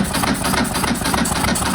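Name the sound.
Ducati motorcycle engine cranking with the throttle open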